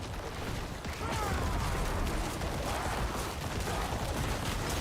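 Rapid bursts of poison explosions in the action game Diablo 4 clatter on without pause, a dense, loud stream of crackling blasts that holds nearly level throughout.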